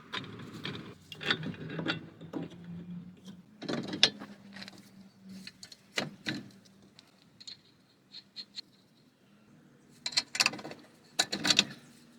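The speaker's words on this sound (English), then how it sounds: "We gotta tighten this bolt." A wrench works a 22mm bolt on the CV axle and lower control arm of a 2011–2020 Toyota Sienna, giving sparse clicking ratchet bursts and metallic rattles close by, separated by quiet gaps.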